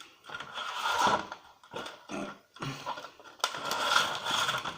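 Someone pries open the plastic case of a TV recorder with its screws already removed. Several faint, close bursts of scraping and creaking are separated by short pauses.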